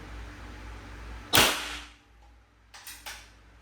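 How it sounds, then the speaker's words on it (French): Snowpeak T-Rex air rifle firing, one sharp loud crack followed by a quick decay, then two fainter snapping reports close together, near and alone without talk. "Je fais 5 tirs,"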